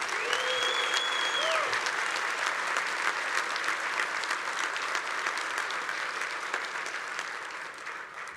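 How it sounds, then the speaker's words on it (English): Sustained applause from a union convention audience, dense and steady for the full length before thinning slightly near the end, with a faint whistle early on. "Can we give an applause to all those local unions that are out there organizing?"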